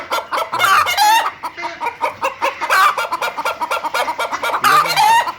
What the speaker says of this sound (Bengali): এখানে অনেক ধরনের মুরগি আছে